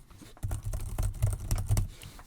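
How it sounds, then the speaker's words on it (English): Typing on a Brydge SP Max+ keyboard case for a Microsoft Surface Pro, a quick run of close, soft clacking keystrokes with no talking. "So here's how it's going to look if I'm typing."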